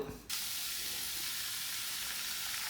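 Steady, loud hissing sizzle of onions and green chillies sautéing in a hot clay pot, starting abruptly and continuing without a break.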